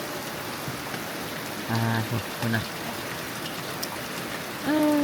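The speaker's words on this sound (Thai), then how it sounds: "โอ้เบิ่งฝนตกหนัก" Heavy rain falling steadily and loudly on a field shelter in a rice paddy, constant dense hiss throughout, with a person speaking briefly over it.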